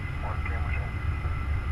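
Small airplane in flight heard from inside the cabin, a continuous low engine drone and hum with steady rumble, close and even throughout, with a voice speaking briefly over it.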